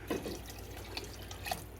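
Water being added to a pot of ham and northern bean soup, heard as quiet splashing and dripping with a few soft gurgles over a low background hum.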